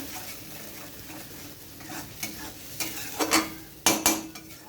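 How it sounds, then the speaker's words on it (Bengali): Spice paste is stir-fried in a pan, with a soft background sizzle and scraping, clinking strokes of a spoon against the metal that grow louder and more frequent near the end. "পেস্ট করে রাখা মশলাটা মশলাটা আমি কষিয়ে নেব ভালো করে"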